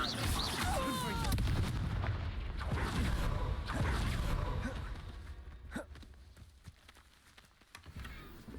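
The fiery Confringo blast spell is cast in the Hogwarts Legacy video game, a loud whooshing burst followed by booming, crackling explosions that fade, with sharper impacts trailing off near the end.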